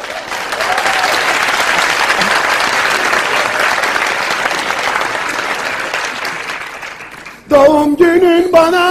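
A crowd applauds in a sustained, even patter of clapping that fades slightly before a voice breaks in at the end.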